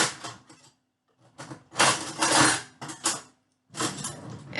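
A small spoon scoops flour into a 4-cup measuring cup while gingerbread cookie dough is being prepared, making short bursts of scraping and clinking separated by brief pauses.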